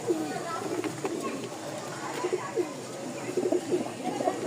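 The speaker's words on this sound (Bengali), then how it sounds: "কবুতরের ডাকটা দেখাই একটু যদি" A male Giribaz pigeon coos in soft, repeated low throaty calls, close by, under a steady background hum and some murmuring voices.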